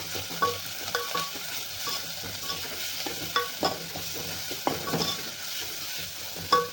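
Onion and a coarse ginger-garlic-coriander paste fry in a pan, with a steady close sizzle and scattered scraping strokes of a spoon throughout. Nobody speaks.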